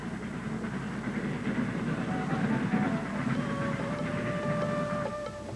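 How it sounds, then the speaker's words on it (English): A train arrives at Coonoor station in the Nilgiri hills with a steady, low rolling rumble. Thin, high wheel or brake squeals rise in the last seconds as it slows. "the train arrives at Coonoor"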